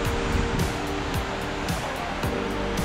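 A steady, roaring rush of falling water at Cachoeira do Jarrão, a tall waterfall in Palhoça, Santa Catarina, Brazil, fills the scene, constant and loud, with faint scattered bumps and knocks on top.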